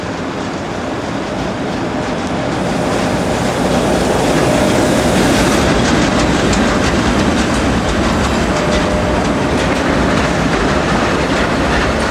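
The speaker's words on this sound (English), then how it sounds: "Rolling into the station on the 13th of May 2003 are 11641 and" A pair of Swiss Class 620 Re6/6 electric locomotives, numbers 11641 and 11175, roll into a station on the Gotthard route, a loud continuous rumble with rhythmic wheel clatter that builds slightly and stays close, with no talk.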